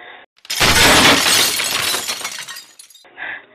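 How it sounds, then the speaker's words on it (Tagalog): Glass mirrors shatter in a room: a sudden loud crash of breaking glass that sprays and tinkles for about two seconds, then cuts off into quiet with a fainter rattle at the end. "May nabasag sa kwarto. Ang mga salamin nabasag."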